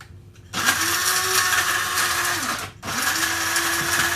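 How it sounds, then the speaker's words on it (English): An electric spice grinder whirs up loudly as it grinds chillies and spices into fine powder, a high steady motor whine running in two bursts with a short pause between them. "I've put my chilies in there now, and I just want to grind this up to like a fine powder."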